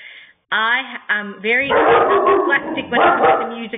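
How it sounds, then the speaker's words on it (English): A dog barks repeatedly in the background while a person keeps talking over it, the barks loud and close and blending with the voice. "I am sorry about the barking."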